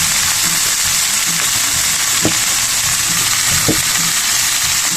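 Loud, dense sizzling of cauliflower and potato frying in hot oil fills the scene, a constant crackling hiss with a couple of soft stirring knocks.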